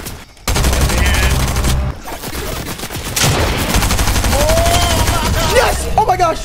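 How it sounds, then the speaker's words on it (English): Rapid SMG gunfire in a Fortnite-style Arena video game match, dense sustained bursts of shots through most of the stretch, with a player's voice talking over the action. "Actually, I'm just getting it with SMG."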